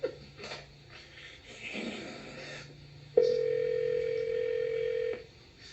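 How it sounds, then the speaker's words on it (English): A telephone line carries a faint hiss and a breath, then a steady ring tone sounds for about two seconds and cuts off abruptly as the receiver is picked up, heard over a 1993 radio call-in line. "We were there when we heard the phone pick up for a moment."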